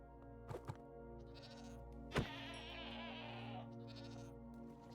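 Goats in Minecraft give a couple of short bleats, then a longer, wavering, nasal bleat over a steady low background hum, all at fairly low volume.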